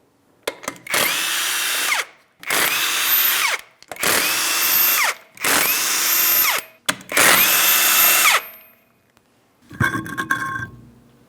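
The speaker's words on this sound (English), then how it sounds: "we're going to remove all 5 of our 21mm lug nuts and the wheel" A power tool removes the five 21mm lug nuts from a Ford Transit 250 wheel in five loud, close whirring bursts of about a second each, followed by a short metallic clatter.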